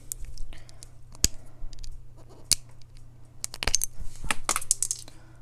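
Plastic crinkling and sharp clicks as a stubborn plastic cover is pried and pulled off the top of a beauty product, a few loud snaps amid steady rustling, close and alone.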